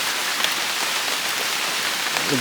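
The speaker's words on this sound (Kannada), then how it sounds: "ಸಿಕ್ಕಾಪಟ್ಟೆ ಮಳೆ ಬ್ರೋ, ಇವತ್ತಂತೂ ತುಂಬ ಮಳೆ ಉಂಟು" Heavy rain pours down steadily and loudly, a dense, continuous hiss of drops hitting surfaces all around, with a faint voice starting at the very end.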